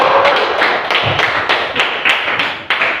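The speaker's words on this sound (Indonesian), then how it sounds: "terima kasih ya tepuk tangan anak-anak" Schoolchildren in a vocational high school classroom give a round of applause: sharp, evenly spaced group claps, about nine in quick rhythmic succession, loud and close.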